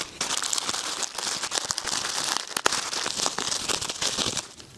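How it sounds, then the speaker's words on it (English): Plastic packaging crinkles and rustles close up as carbon fibre interior trims for a BMW M140i are unwrapped, a busy run of crackling and tearing with no talking. "let's unwrap every single thing in the box."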